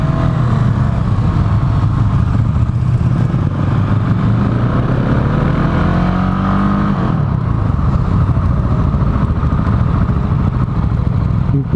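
A 2018 Husqvarna 701 Supermoto's single engine drones loud and close, its pitch climbing steadily under acceleration before easing off midway and settling back into a rough, rumbling run, with no talking.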